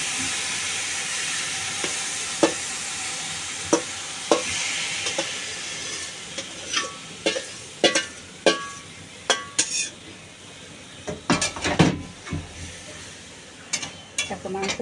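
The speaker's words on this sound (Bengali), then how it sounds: "এবার আমি মাংসটা রান্না করব। তার জন্য দেখো কড়াই আমি বসিয়ে দিয়েছি।" Meat frying in a wok, with a steady sizzle and hiss beneath a series of sharp scraping clatters from stirring that grow more frequent toward the end, close and fairly loud.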